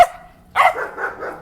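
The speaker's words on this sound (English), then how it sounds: "all these dogs." A dog barks in a Latin American neighborhood, one short yip followed by a quick burst of several sharp barks, moderately close and alone.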